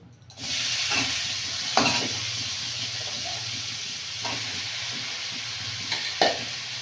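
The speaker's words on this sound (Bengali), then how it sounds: "চিচিঙ্গাটা ভেজে নেব।" Snake gourd (chichinga) coated with salt and turmeric frying in hot oil in a wok, a steady broad sizzle throughout with a few brief scraping stirs, close and fairly loud, no talking.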